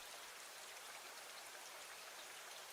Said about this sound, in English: Now you can have the nice rain ASMR.